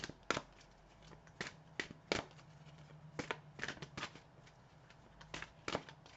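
A deck of tarot cards is shuffled by hand, giving a rapid run of crisp riffling snaps and soft slaps at an uneven rhythm, close and clear in a quiet room with no talking.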